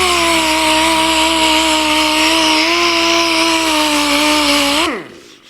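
A cheap Chinese air-powered sander for woodworking runs at a steady high-pitched whine for about five seconds, then quickly spins down and stops.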